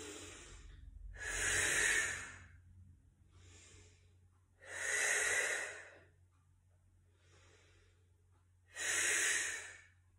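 Slow, deep breaths during a body-lowering exercise, three loud breathy exhalations spaced several seconds apart with quieter inhales between, close and alone.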